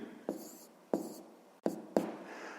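A math equation for a fifth-grade exercise is written by hand, four distinct scratchy pen strokes on paper spaced about half a second apart, quiet and close.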